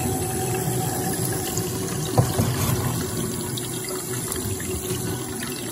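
A kitchen faucet runs with water leaking at the spout hose connection, giving a steady, loud hiss and splash of flowing water with a faint clink partway through, and no speech.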